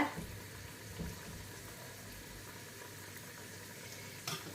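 Soya meat vadas frying in hot oil after being flipped over, giving a steady low sizzle and bubbling throughout, with a couple of brief louder splutters near the start and end.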